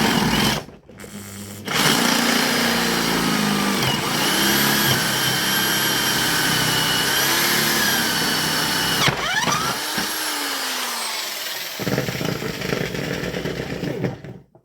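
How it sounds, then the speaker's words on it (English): A power drill with a larger bit bores a hole through a wooden axe handle. A loud, steady motor whine and grind runs for several seconds, briefly dips and shifts pitch, then carries on before stopping near the end. "just to allow a drill bit bigger one to go through in the handle where I want it"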